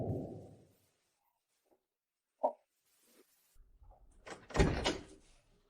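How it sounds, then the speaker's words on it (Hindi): A door is opened indoors: a brief click or knock, a pause, then a louder rattling clatter as the door moves. Someone speaks briefly beforehand. "मैं दरवाजा खोलती हूँ।"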